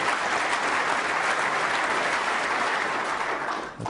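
Warm applause from a snooker crowd at the 2011 World Snooker Championship final, Higgins versus Trump, a steady dense wash of clapping close and full throughout, tailing off slightly at the very end.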